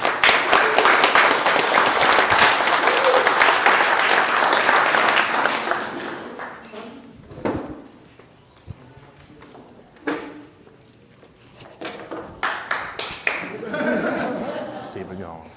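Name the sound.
audience applause welcoming speaker Derek Sturman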